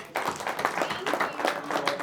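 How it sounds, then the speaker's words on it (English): Audience at a charity workshop auction breaks into a round of applause, a dense, steady wash of many hands clapping fairly close for about two seconds. "Give yourself a round of applause"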